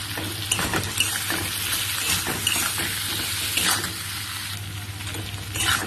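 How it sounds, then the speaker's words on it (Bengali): Potatoes frying with onions in a pan after salt and turmeric are added, making a steady close sizzle with occasional stirring scrapes, no voices. "আরও দু মিনিট আমি আলুগুলো ভেজে নেব"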